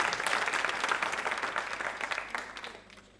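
An audience at a televised Hindi quiz show marking one year of PM Narendra Modi's government claps loudly for a government scheme in a dense, continuous burst of applause that fades out toward the end.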